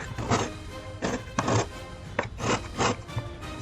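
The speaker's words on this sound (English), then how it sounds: "It takes a little while to grate all of the zest from one lime." A grater scrapes zest from a lime in short rasping strokes, about six bursts in a quick uneven rhythm, close and fairly loud.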